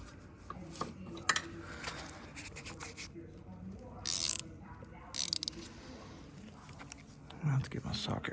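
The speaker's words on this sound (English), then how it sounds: "I have to get my socket wrench." A socket wrench clicks in short bursts of ratcheting while working on the clutch master cylinder of a 1996 Mazda 626 2.5L V6, faint metallic rattles and clinks under scattered quiet talk.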